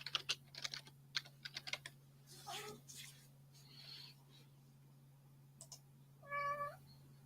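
An indoor cat gives one short, clear meow near the end, after a run of faint computer keyboard typing clicks and soft rustles over a low steady hum.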